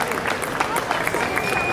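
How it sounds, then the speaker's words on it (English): Steady crowd applause and clapping for kids at a Janmashtami costume contest in Houston, continuous and fairly loud throughout. "Please, a big round of applause."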